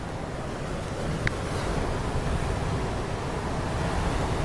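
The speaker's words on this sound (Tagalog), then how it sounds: "Wow, dagat." Sea waves breaking on a shore, a steady broadband wash of surf with wind noise buffeting the microphone, continuous and fairly loud, with no talk.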